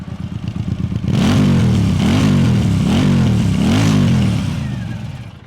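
Keeway Benda V302C twin-cylinder cruiser motorcycle starts and runs with a loud exhaust note, rising and falling through several throttle blips over a steady idle, heard up close with no talk.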